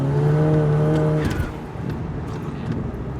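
An Audi TT running its original K03 turbo accelerates hard, a loud close engine tone climbing in pitch for over a second before easing into a rougher, lower roar.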